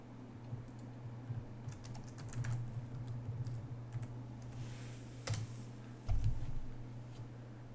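Quick, irregular clicking of keys as a password is typed on a computer keyboard, soft and close in a quiet room.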